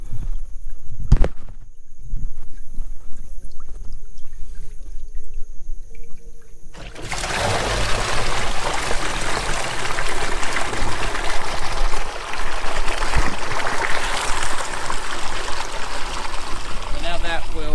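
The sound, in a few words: water flowing after pulling a board in a field ditch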